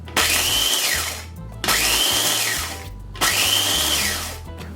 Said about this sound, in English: just pulse it a few times until everything is nicely blended